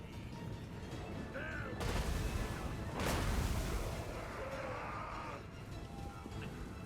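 A battle rages in Total War: Warhammer 2 with Chaos forces and a Hell Cannon, heavy booming impacts swelling around two and three seconds over a constant clash of combat noise.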